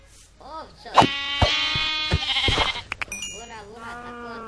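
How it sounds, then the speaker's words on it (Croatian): A sheep in the video game GTA V gives several wavering bleats, fairly close, overlapping with someone talking over the game. "Ovco."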